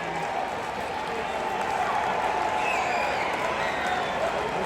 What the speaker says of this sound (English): There's a big cheer when that home run went out the park.